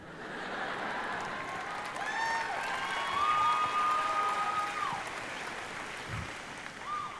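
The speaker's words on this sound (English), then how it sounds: "Half of you clap" Audience at a leadership motivational talk clapping and cheering in a moderate, swelling round, with a whistle-like tonal sound gliding above the clapping midway.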